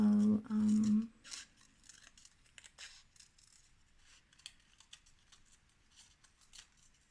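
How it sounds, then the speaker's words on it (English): A short burst of loud humming or tone, then a series of quiet, close snips and paper rustles from scissors cutting in irregular bursts. "With the hand you hold the scissors, you only cut, cut, cut."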